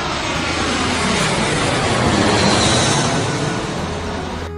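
A jet airplane engine roars loudly and continuously, a broad rushing blast that swells slightly in the middle and then eases off, with no voices over it.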